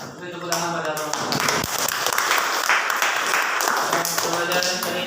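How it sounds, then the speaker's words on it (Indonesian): A classroom of students breaks into dense, sustained applause after a group presentation, loud and steady for several seconds, with voices audible beneath it. "Beri tepuk tangan pada"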